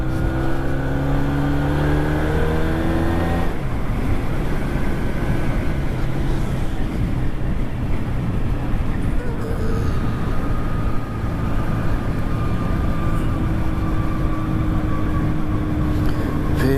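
A 2024 Harley-Davidson 400cc twin-cylinder motorcycle rides through traffic, its engine droning loudly and steadily with wind rush and shifts in pitch as it accelerates, and traffic noise around it.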